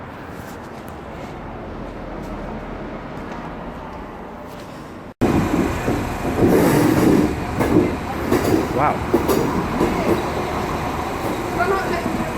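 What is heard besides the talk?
Irish train ride in Dublin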